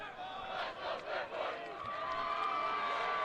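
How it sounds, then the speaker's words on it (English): Fans at a Section V Class A boys lacrosse championship game between Pittsford and Fairport chant as a crowd, steady and continuous with rhythmic swells at a moderate distance. "Fairport fans chanting, "Let's go Fairport.""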